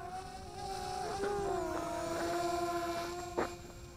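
Eachine E500 Mirage VTOL RC airplane flying on electric motors, a steady whining buzz that rises and falls in pitch as it is brought down and yawed into the wind, outdoors with wind noise and no talking.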